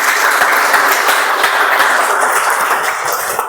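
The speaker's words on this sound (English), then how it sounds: "huge round of applause, please" Loud, sustained audience applause fills a Toastmasters club meeting, dense clapping from a room full of people continuing evenly without a break.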